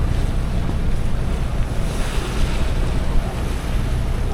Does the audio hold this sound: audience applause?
no